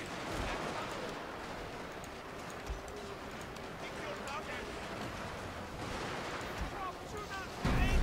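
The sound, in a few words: artillery suppression fire in a Total War video game battle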